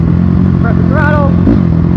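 Motorbike engine running loud and close on a farm trail, a steady rough drone that rises briefly as the throttle is pressed, with a voice talking over it.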